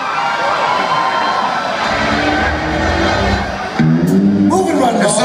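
Crowd cheering at a live concert, a dense roaring wash of voices that swells louder near the end as someone shouts into the microphone.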